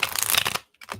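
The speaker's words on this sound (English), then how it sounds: "Now, this is my first time shuffling this deck" A deck of tarot cards being shuffled up close, a dense riffling burst for about half a second, a pause, then a short second rustle.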